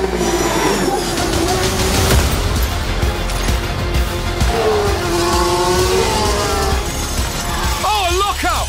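Formula 1 race cars in the F1 Manager 2023 video game roar past continuously at a sprint race on a circuit, engines revving and rising in pitch, with tyre squeal near the end, under steady commentary talk.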